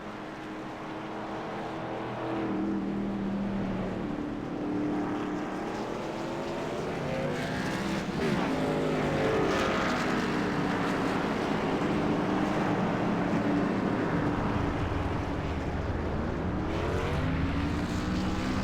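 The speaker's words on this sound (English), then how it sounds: "We heard those motors revving up." Xfinity Series race cars on pit road at Dover, engines revving and droning steadily and loudly, with rising and falling pitch sweeps as cars pass, no talk over it.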